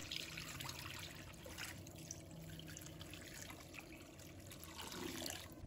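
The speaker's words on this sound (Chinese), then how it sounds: "倒入清水" Clear water is poured into a cooking pot holding sliced ginger, rice wine and pork liver, making a faint, steady trickle and splash throughout.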